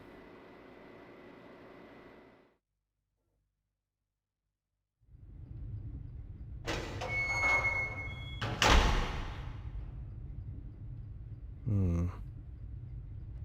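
A heavy industrial door in the video game Riven opening with a deep mechanical rumble, a loud clanking thud and grinding hiss, followed by a lower ambient drone and a short metallic rattle.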